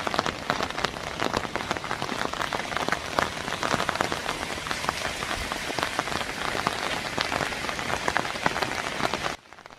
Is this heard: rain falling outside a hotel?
yes